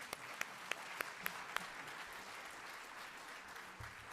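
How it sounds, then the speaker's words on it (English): Applause from an audience at a school district's annual state-of-the-schools event, a steady wash of clapping at moderate distance with a few sharp louder claps standing out early on, fairly faint overall. "let's give them another round of applause"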